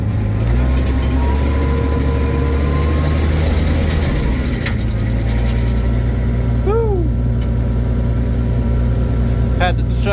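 A tractor engine revs through its PTO to drive a pecan tree shaker in an orchard: a loud, steady low rumble with a deeper drone fading partway through, and brief squeaky whistles near the end.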